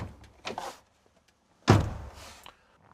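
Door of a DAF XG truck cab opening with a single pull on the handle: a soft click, then a louder thunk as the latch releases and the door swings, heard close up in a quiet cab.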